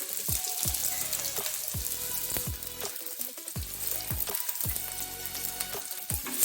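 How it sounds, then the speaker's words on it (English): Green chilies and onion frying in a pan, giving a steady close sizzle with scattered sharp pops and crackles throughout. "add your green chilies. Once they pop, add in your onion as well."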